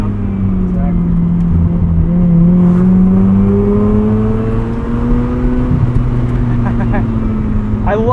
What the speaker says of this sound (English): love how silky smooth the rotary is at Redline